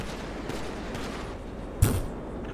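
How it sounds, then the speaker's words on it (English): Gunfire in a GTA V roleplay game: one sharp, loud burst of shots cuts through about two-thirds of the way in, over a faint, noisy background. "Who is you shooting, bro?"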